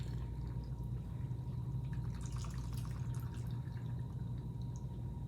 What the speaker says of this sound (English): Look at that, almost a perfect pour for that glass.